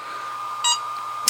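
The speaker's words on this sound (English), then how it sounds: "I don't know if you can hear how loud that beep is" A single short, shrill electronic beep from a HobbyMate D6 Lite dual charger's button press, sounding alone over a faint hum, with the hint of a second beep starting at the end.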